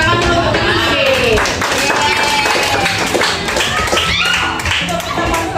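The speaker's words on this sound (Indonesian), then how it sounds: "Tepuk tangan dulu untuk ini." Students clapping together in a classroom, a dense burst of applause running steadily throughout, with voices and chatter mixed in underneath.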